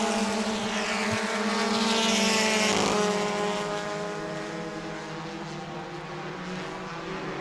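Bomber A class stock cars roar around a short oval at New Smyrna on the final lap of a heat, a loud continuous engine drone with a car passing close by midway before it settles.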